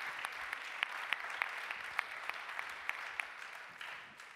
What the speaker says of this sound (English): Let's give Clayton a round of applause.